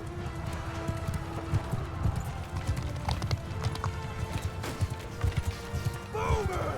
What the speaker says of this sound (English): Those horses are jumping off that cliff, and that's not ideal. Let me get the horse out of there.